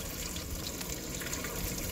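Water from a tower garden pump flows steadily over the plant pods and down into the buckets, a constant close splashing and trickling wash with no breaks.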